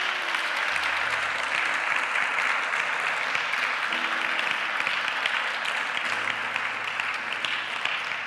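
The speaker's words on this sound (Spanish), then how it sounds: "Denle un aplauso al Señor." Church congregation applauding, steady sustained clapping from a crowd in a hall, moderately loud throughout with some indistinct voices mixed in.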